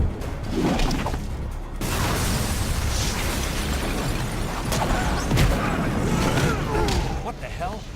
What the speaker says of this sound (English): That explosion came from the shower room.